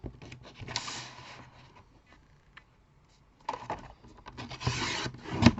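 Paper being cut for a handmade card in a crafting session, heard as close, dry scissor rasps and rubbing in two bursts, with a quiet pause in the middle.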